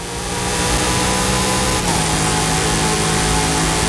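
A car engine in Forza Horizon 5 revs hard at a race start, a loud steady roar that stays high and continuous throughout with a brief shift in pitch midway.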